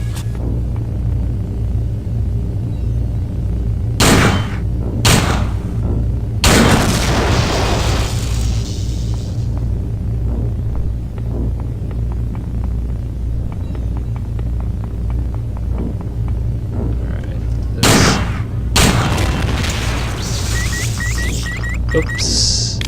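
Gunfire against turrets in System Shock 2 comes as a few heavy booming blasts with rumbling decay, spaced over a low constant hum, with a pair of close shots early on and another burst near the end.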